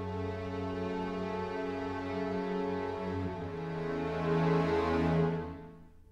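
Dry recording of an orchestral piece with the hall reverb removed, sustained low and mid chords swelling steadily and then cutting off abruptly, leaving a dead, unreverberant ending.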